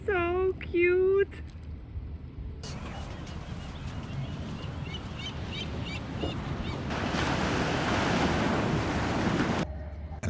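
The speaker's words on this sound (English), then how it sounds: "This is Capitola Beach." Surf washes and breaks along Capitola Beach, California, with steady wind buffeting the microphone; a loud voice speaks briefly at the start before the continuous roar of waves and wind takes over.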